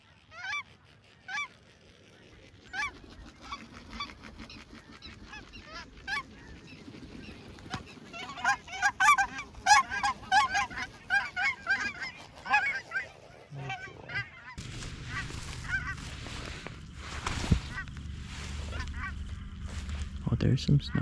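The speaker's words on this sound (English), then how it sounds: "Oh, there's some snow geese." Snow geese honk over a spring field, a busy chorus of overlapping calls that grows denser and louder, with a person speaking over it and a wind-like rumble near the end.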